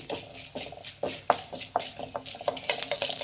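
Cardamom, cumin seeds and pepper frying in a pan for chicken saloona curry, a quiet sizzle broken by close, irregular scrapes and taps of a spoon stirring the spices, no talk.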